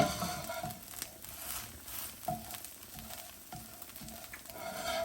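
A flaxseed tuna wrap fries in a pan with a steady close sizzle, broken by soft scraping and stirring touches at irregular intervals.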